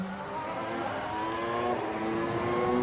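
A 2025 Formula 1 race car passing on track, a high-pitched engine whine rising steadily as it approaches, fairly faint and distant-sounding with no voices.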